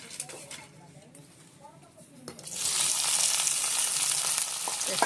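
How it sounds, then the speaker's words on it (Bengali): Spice paste hits a hot pan after fried potatoes are lifted out, bursting into a loud, bright sizzle halfway through that stays steady to the end, following a quieter stretch with faint kitchen clinks. "পেস্টটা ভাজা ভাজা হয়ে গেলে পরে সব মশলা দিয়ে দেবো"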